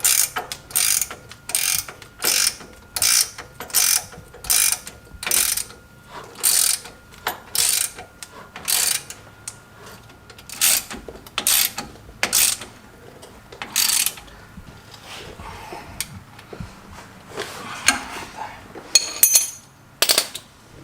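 A ratchet tightening bolts on a Stryker dual steering stabilizer being installed on a 2017+ Ford F250/F350 truck: loud, close bursts of rapid clicking, repeated in short strokes with brief pauses between, and no talking.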